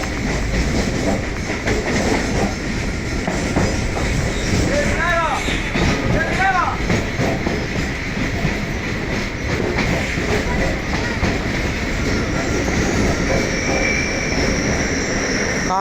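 Suburban train on the Chennai Beach to Velachery line running steadily, with a continuous loud rumble and wheel clatter and a couple of brief squeals, under faint voices.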